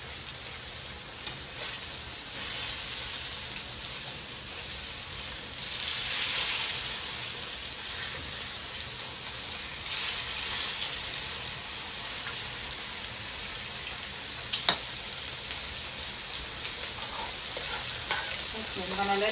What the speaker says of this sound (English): I'm gonna let this fry for about 2 more minutes